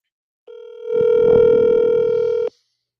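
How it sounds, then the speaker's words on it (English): A steady telephone tone rings out close and clear for about two seconds, joined partway through by a rougher, noisier layer before both cut off abruptly. "Come on, Sonya, pick up the phone."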